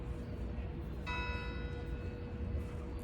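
A single bell strikes at 7 o'clock near the Gloucester docks, a faint, ringing tone with a lingering decay heard from a distance over steady outdoor wind and low background noise.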